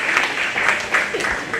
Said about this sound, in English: Let's go ahead and give him a nice round of applause